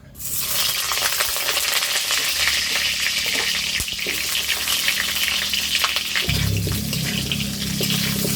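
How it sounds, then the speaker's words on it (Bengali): Potato pieces frying in hot oil, producing a loud, dense sizzle that runs continuously throughout, with occasional stirring scrapes and a shift in the low background tone partway through. "আলুগুলো ভেজে নেব"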